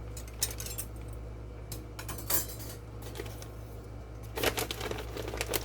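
A metal spoon picked up and handled in a home kitchen, giving a few scattered clinks and taps against a low steady hum, with quiet gaps between the bursts.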